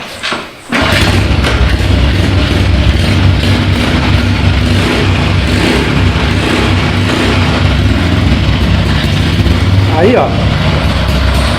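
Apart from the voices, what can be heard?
Dafra Zig 50 motorcycle with Honda Biz engine starting and idling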